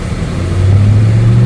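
Exhaust of a 2019 Porsche Panamera GTS heard from inside the car as it accelerates onto a road, a loud low engine drone rising in pitch and intensity.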